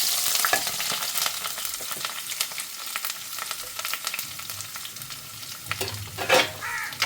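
Sliced onions fry in oil with fenugreek and curry leaves in a pan, a close, continuous sizzle broken by repeated stirring scrapes and clatters of a spatula, with no speech.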